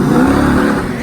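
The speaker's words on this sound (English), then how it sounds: "Burn some rubber." A Jeep Trackhawk revs hard while burning rubber, a brief, loud, close engine roar that holds steady, then eases off slightly.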